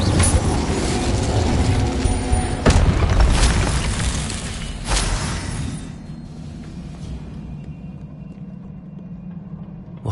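Fire spell casting in Hogwarts Legacy on PS5: a couple of sharp bursts with whooshing flame roar in the first half, then the noise fades to a low steady rumble.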